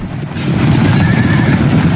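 A horse whinnies loudly amid a cavalry battle scene, the neigh rising over heavy rumbling noise and hoofbeats, close and forceful with no voices.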